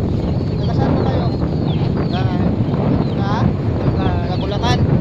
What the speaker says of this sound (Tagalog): pasensya na kasi malakas ang hangin